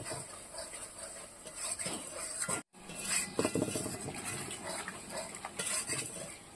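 Spice paste with chili powder is sautéed in a pan, with steady frying sizzle under repeated clinks and scrapes of a metal spoon against the pan, close and continuous apart from a brief cutoff.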